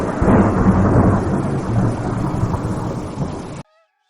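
Heavy rain pours in a dense, roaring wash with a low rumble beneath, then cuts off abruptly into silence.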